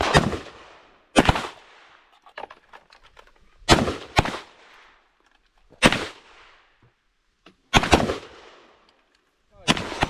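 Sharp, loud gunshots crack out one or two at a time at a tactical shooting range, about eight in all, separated by quiet pauses with a brief echo after each.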